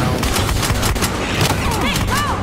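Gunfire in the cops-and-robbers shooter Battlefield Hardline: a rapid, ragged string of shots crackles over a busy game mix, with whistling effects trailing toward the end.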